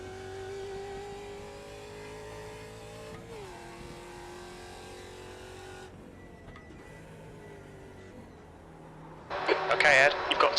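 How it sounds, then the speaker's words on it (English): A race car runs steadily through most of the stretch during a track practice session at Sandown in the American Muscle Series, heard as a continuous engine drone that dips and then gives way to a louder, harsher burst at the end. "Watch your mirrors, there's a car approaching."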